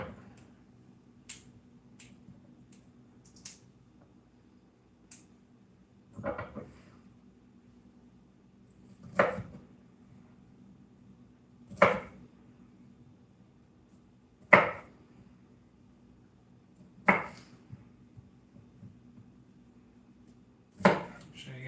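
A knife cutting around a broccoli crown on a board, producing about eight crisp, separate chops spaced a few seconds apart, close and clear in a quiet kitchen.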